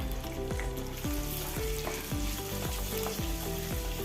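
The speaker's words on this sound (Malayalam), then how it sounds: "എണ്ണ ചൂടായി ഉരുളക്കിഴങ്ങ് ഒന്ന് വാട്ടിയെടുക്കണം" Potatoes fry in hot sunflower oil in a kadai, a dense continuous sizzle with a regular rhythm of spatula strokes scraping the pan roughly twice per second, close and unaccompanied by talk.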